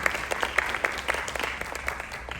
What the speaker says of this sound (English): but a round of applause for Christine